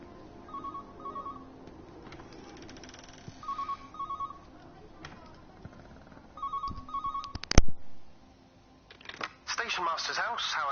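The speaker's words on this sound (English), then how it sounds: "I hear a phone." A telephone rings in the video game Everyone's Gone to the Rapture, several short repeated bursts of ringing spread across the clip, fairly faint over quiet ambient game sound, with a louder thump and clatter near the end.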